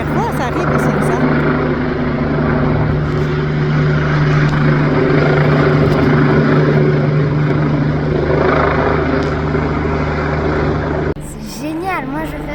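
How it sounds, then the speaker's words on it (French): Loud, close helicopter rotor thrum and turbine whine hovering overhead near a mountain waterfall in the Alps, a steady pulsing roar throughout that briefly dips near the end as voices chatter over it. "Ça fait un bruit de dingue, hein, l'hélico."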